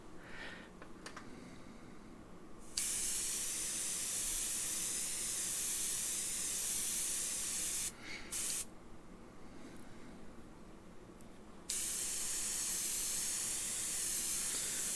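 An airbrush sprays Createx Natural Lip paint in light passes, giving a close, bright hiss that starts and stops in bursts with short pauses between them.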